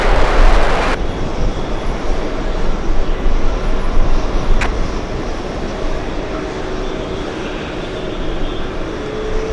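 Delta Airlines Airbus A330 on final approach into JFK, a loud, broad jet roar that stays steady and close for the whole stretch with no voices.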